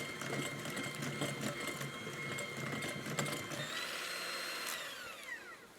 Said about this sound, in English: So we'll just beat in that apple.